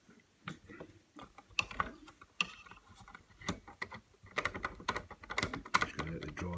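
A screwdriver drives screws back into a fan heater, producing close, irregular clicking and ratcheting with small metallic taps and rattles, broken by short pauses throughout.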